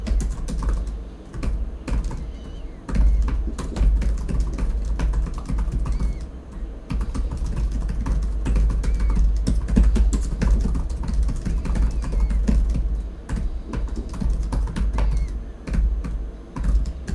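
Continuous rapid typing on an HP Victus 16 (2023) gaming laptop keyboard, dense clattering keystrokes in a steady, close stream with brief pauses, over a low background rumble and no talking.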